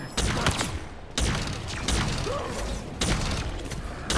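Rapid bursts of gunfire from Halo Infinite, loud and close, with sharp shot clusters repeating every second or so, a mechanical whir beneath and a voice talking over the shooting.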